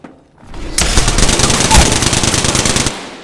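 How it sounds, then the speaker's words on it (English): Apex Legends gunfire, one loud close burst of rapid automatic shots lasting about two seconds and then cutting off. "I'm taking shots. Getting shot at."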